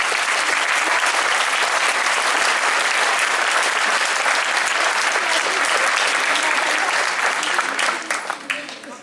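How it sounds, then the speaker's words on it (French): Sustained applause from a crowd, dense and loud clapping that holds steady before tapering off near the end. "Encore une fois, des applaudissements pour Danielle."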